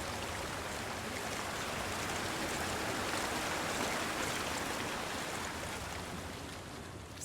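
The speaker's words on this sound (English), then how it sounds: "I hear water." Steady rushing of a flowing stream in Hellblade: Senua's Sacrifice, a continuous broadband wash of water that holds level throughout and eases slightly at the end, with no voices.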